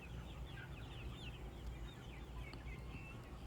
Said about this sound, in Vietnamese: Đấy, gà nó khỏe như thế này,